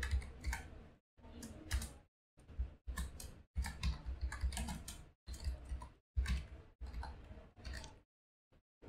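Code is typed on a computer keyboard in short bursts of rapid, close clicking keystrokes separated by brief pauses, with no speech.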